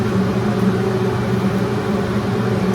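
A hair dryer blows steadily on freshly shampooed and conditioned hair, a loud, even whooshing hum with a low motor drone that holds without a break.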